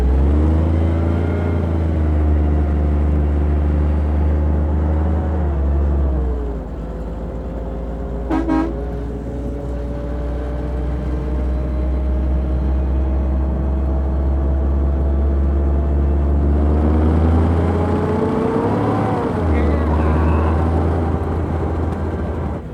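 A Hemi engine fitted in a tank-based car runs with a loud, steady low drone that continues throughout, its pitch shifting slightly as it revs near the end, with no talk over it.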